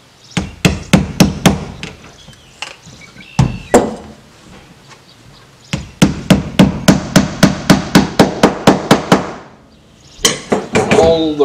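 Hammer driving tacks into the headliner tack strip of a 1948 Chevrolet's upholstery, sharp close metallic taps in quick rhythmic runs separated by short pauses, loud and without talking.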